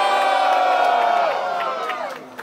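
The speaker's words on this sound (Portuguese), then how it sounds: "As rimas de Torment, passa barulho" A crowd at a rap battle cheers and shouts loudly together in a sustained roar that fades out after about two seconds.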